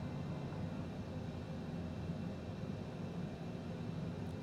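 A video-game airplane on its landing approach toward a runway gives a steady, loud engine drone with a broad rushing roar, holding even throughout with no talking over it.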